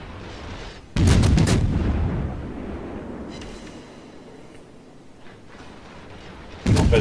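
Naval artillery salvos in World of Warships, two loud booming shots several seconds apart, each with a long rumbling tail fading into background game noise.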